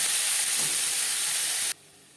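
Onions pre-softened with salt fry in hot oil in a pan, giving a loud, steady close-up sizzle and hiss that cuts off abruptly near the end, with no talking.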